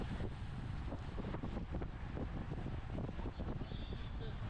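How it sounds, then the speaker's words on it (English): Strong, steady wind gusting and funnelling between tall city buildings along a bicycle race route, roaring loudly into the microphone as continuous buffeting noise with no clear pauses. "the height of the building funnels the wind through here pretty good"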